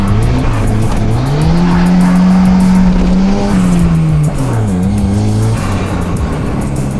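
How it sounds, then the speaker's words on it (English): A Volvo 940 Turbo engine with a blow-off valve and aftermarket exhaust drones loudly, its pitch climbing and dropping as the throttle shifts, with rough exhaust noise throughout. "The car is starting to sound pretty damn good with the blow-off valve and the exhaust"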